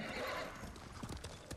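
A horse gallops in the video game Ghost of Tsushima, with rapid clip-clop hoofbeats and a whinny under a busy game background, moderately loud.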